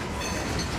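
A slow train passes on the railroad near an interlocking, a brief, steady, broadband rumble of wheels and cars heard close.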